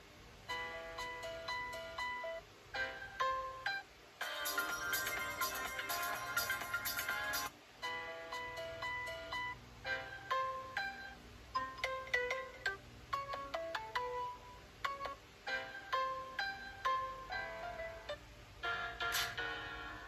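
A Samsung J5 Prime phone ringtone plays loudly through its loudspeaker as a bright repeating melody of short tones, with brief pauses between phrases and no talking.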